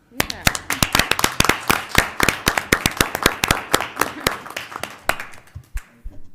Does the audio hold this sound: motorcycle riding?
no